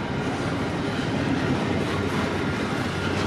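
Container train rolling past on the rails, a loud, close, continuous rumble with rattling wagons and faint clickety-clack, no talk over it.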